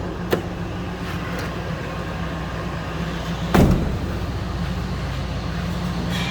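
A 2000 Ford F-250 XLT Super Cab 4x4 with a 5.4 liter Triton V8 idles steadily from behind the truck, a low, even rumble. A couple of brief clunks are heard, one near the start and one midway.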